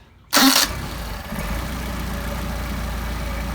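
An engine fitted with Solex carburetors hot starts with a sharp crank burst, then settles into a steady, even idle that runs on close and loud.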